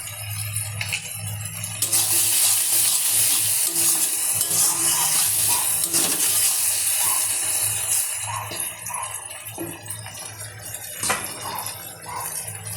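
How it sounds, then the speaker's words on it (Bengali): Boiled potatoes and cauliflower tipped into a frying pan of spiced oil with turmeric and cumin powder, followed by a loud, steady sizzle and repeated stirring scrapes and clinks. "দিয়ে দিলাম সব সবজিগুলো একসাথে, আলু আর ফুলকপি সিদ্ধ করা।"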